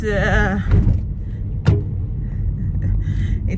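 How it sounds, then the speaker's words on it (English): A car with a suspected steering fault is driven to a garage. A steady low engine and road rumble carries throughout, with a brief thump partway through. "I'm taking this car to the garage."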